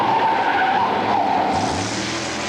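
A drag racing car's tires skid and squeal loudly in one short burst, with engine rumble underneath as the squeal fades toward the end.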